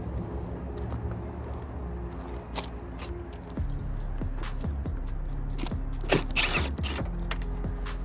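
A ratchet clicks in quick bursts as strut mounting bolts come off the top of a car, with metallic clinks nearby and no voice.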